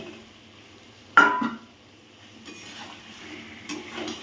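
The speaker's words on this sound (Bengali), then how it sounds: "এবার আমি দিয়ে দেবো ভাজা আলু।" Fried potatoes being stirred into a hot, sizzling masala in a pan, with a sharp clatter of the spoon against the pan near the start and a steady low sizzle with light scraping afterwards.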